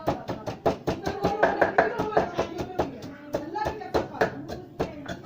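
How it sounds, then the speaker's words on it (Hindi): Chili, salt and spices are pounded by hand in a mortar for sarson ka saag, producing rapid, close, rhythmic thuds, with a voice talking alongside. "और इसको अच्छे तरीके से हमने कूट लेना है।"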